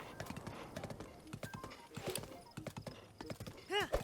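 Horse hooves clip-clop in a steady galloping rhythm in Zelda: Breath of the Wild, with a short whinny near the end and a voice talking over the running.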